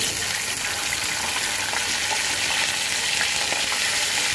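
Eggplant, drumstick, beans and potato sizzle loudly in hot oil for a Bengali vegetable chorchori, a dense crackling hiss held close and constant throughout, with faint stirring and no talking.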